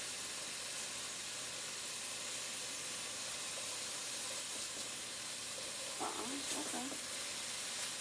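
Mushrooms frying in a pan, a steady, soft sizzling hiss that runs throughout, with a brief spoken word near the end.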